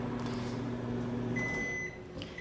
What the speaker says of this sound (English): pull this out of the microwave